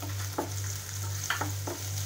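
Two medium-sized, finely chopped mushrooms sizzle in a pan for soup, with a soft, steady frying hiss broken by a few quick scraping stir strokes.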